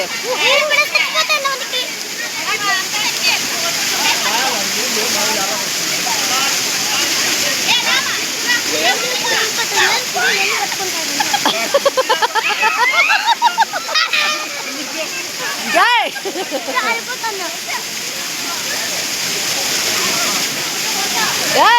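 Waterfall at Penna Ahobilam roars continuously and loudly close by, a dense rushing wash of water, while people shout and talk over it with occasional splashes.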